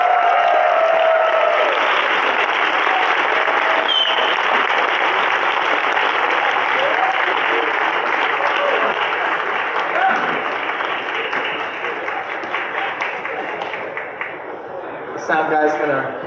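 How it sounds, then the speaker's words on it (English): Audience at a solar mobility presentation after-party applauding a speaker, loud sustained clapping with some crowd cheering that slowly thins out, then a brief burst near the end. "put your hands together for Chris Anthony"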